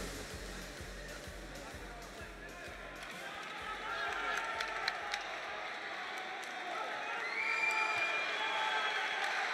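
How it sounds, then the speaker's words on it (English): A partisan crowd roars at a kickboxing bout in Tenerife, Spain, a steady loud cheering swell with thumping beats underneath at first, while a commentator talks over the noise. "So here we go, the crowd is going crazy."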